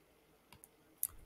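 Computer mouse clicks while working in a game-scripting editor: three quick, faint, sharp clicks close together, with a slightly louder final click, over quiet room tone and no talking.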